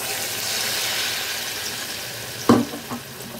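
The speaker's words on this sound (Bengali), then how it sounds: "তো আমি এইভাবেই সবগুলো পকোড়া ভেজে তারপর ফিরে আসছি।" Battered bread and egg balls frying in hot oil give a steady, soft sizzle, with a sharper splash near the end as another piece drops in, followed by a smaller bubbling burst.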